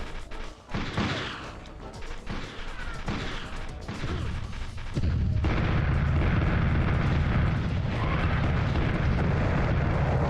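A grenade blows up in the PlayStation game Army Men: Green Rogue. Scattered gunfire and crackling come first, then a sudden loud blast sets off a heavy, sustained roar that fills the rest of the clip.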